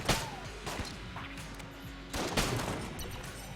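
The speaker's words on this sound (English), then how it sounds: "I guess we'll use our trick gun." Rapid bursts of gunfire from the trick gun, a weapon with a shotgun portion, in the video game Enter the Gungeon, with loud repeated shots and crashing impacts across the whole stretch.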